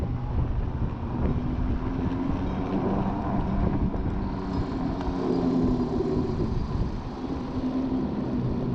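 An EGO 56v electric mini bike being ridden outdoors, heard as a quiet steady whir under continuous rushing wind noise over the microphone, with no talk throughout.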